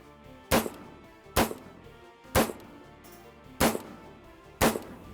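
Five sharp gunshots crack out at a shooting range, fired at a target in a slow, steady rhythm about a second apart, each loud and close with a short echoing tail.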